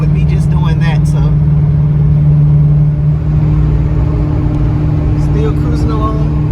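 Inside a cruising Pontiac GTO, the engine holds a steady, deep drone with a slight dip midway, loud and close, as someone talks over the running motor.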